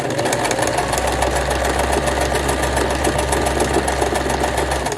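A sewing machine stitches a zigzag along a knitted tube, running fast and steady with a rapid, even mechanical clatter close by.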